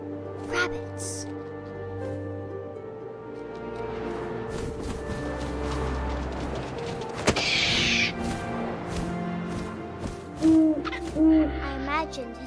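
Owl hoots in the video game What Remains of Edith Finch, several low, drawn-out tones recurring at intervals alongside wind and rustling effects, with a sharp thwack midway and a narrating voice over the top.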